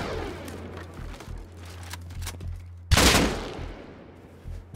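Gunfire in the survival game Rust, with a sharp loud burst near the middle of the clip and a busy crackle of shots and game noise around it, all over a steady low hum.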